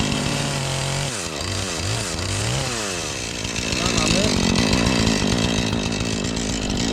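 A chainsaw runs loudly close by, cutting wood. The engine revs up and down several times, then settles into a steady, rough buzz under the cut. A voice speaks briefly over it.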